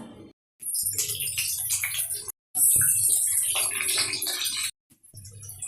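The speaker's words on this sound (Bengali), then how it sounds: "আলুগুলোকে বয়েল করে নিয়েছি, তেল গরম হয়ে গেছে, গরম তেলে দিয়ে ভেজে নেব।" Boiled potatoes frying in hot oil for aloo dum: loud bursts of crackling, hissing sizzle close up, broken by two abrupt silent gaps, with no speech.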